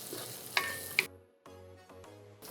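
Diced, boiled and oil-blanched potato for poha upma goes into hot oil with a brief sizzle and a couple of sharp clinks, then the frying hiss settles and fades into a quieter kitchen with a low hum.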